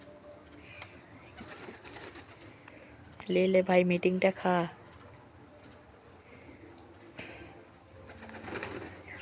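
Pigeons coo in a loud, close burst of repeated throaty calls midway, with someone talking before and after and fainter coos around him.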